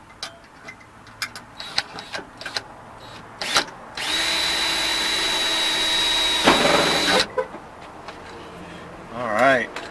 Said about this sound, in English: I just drill a new hole